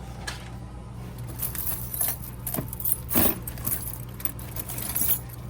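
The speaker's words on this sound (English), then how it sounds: "I had to go through all of those keys" A large bunch of keys for a 1969 Camaro jangles and clinks close by as it is sorted through, with bursts of metallic rattling rising and falling against a low background hum.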